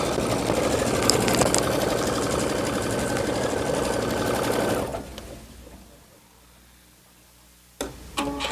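A Brother Luminaire embroidery machine stitching on foamy leather runs with a steady, close mechanical hum for about five seconds, then stops and fades to near quiet before a brief clatter at the end.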